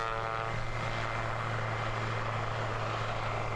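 An airliner engine drones steadily at Christchurch Airport, a loud continuous roar with a low propeller-like hum underneath, heard close and without talk.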